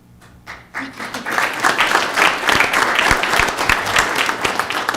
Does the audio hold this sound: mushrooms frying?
no